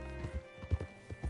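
Horse hooves clip-clopping in Red Dead Redemption 2, a few slow, soft thuds at a walking pace over a steady background hum.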